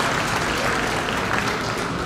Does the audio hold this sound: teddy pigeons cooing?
no